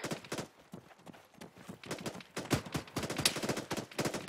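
Rapid bursts of video game gunfire crack in quick, irregular succession, some shots sharp and close, others dull and distant, forming a steady fusillade with no talking over it.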